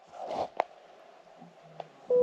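A mobile phone starts ringing outdoors in the woods: a sharp, steady electronic tone cuts in loudly right at the end, after quiet rustling and a couple of faint clicks.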